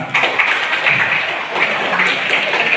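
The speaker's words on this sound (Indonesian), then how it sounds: "Nah, itu tepuk tangan sekarang." A short burst of applause from a village planning meeting crowd, steady clapping at moderate loudness, with a faint murmur of voices underneath.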